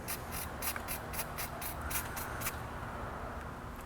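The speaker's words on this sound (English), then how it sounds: "Using throttle cleaner for this operation." Throttle cleaner is sprayed onto a part of a 2003 Nissan 2.5L engine during a water pump replacement, heard as a quick series of about nine short, close hissing bursts before the spraying stops.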